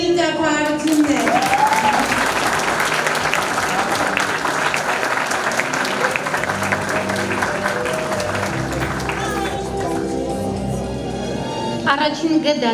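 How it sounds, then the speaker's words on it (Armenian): A room full of people applauds teacher Hovhannisyan at a 12th-grade last-bell school celebration, sustained thick clapping that holds steady for several seconds before thinning slightly near the end. "Ընկեր Հովհաննիսյանի ծափարություններ"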